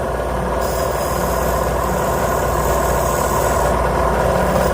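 A grinding wheel stone cutting an engine valve seat makes a loud, steady whirring drone with a higher grinding whine laid over most of the stretch, continuous and close.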